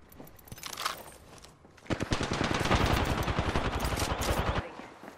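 Gunfire in the shooter game Apex Legends, a few scattered shots followed by a long, rapid automatic burst of loud, evenly spaced cracks that stops abruptly near the end.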